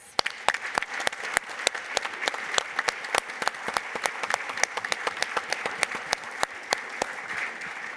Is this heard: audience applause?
yes